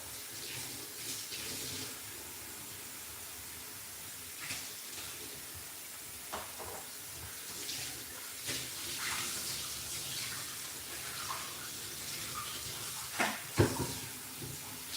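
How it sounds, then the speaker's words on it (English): Water runs steadily from a tap to rinse photographic film during home film developing, a continuous splashing flow with a few louder knocks and splashes, heard alone without talk. "So I'm gonna rinse the film a little bit."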